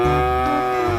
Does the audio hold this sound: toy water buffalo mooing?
yes